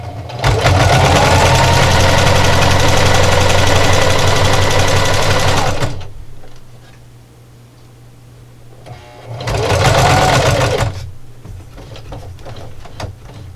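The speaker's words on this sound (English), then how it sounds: "so I'm just going to do the same thing and sew right up into my stitch line." A sewing machine stitches a pie plate coozie in a loud, rapid, steady mechanical whir for about six seconds, pauses with quiet handling, then runs again in a shorter burst before stopping.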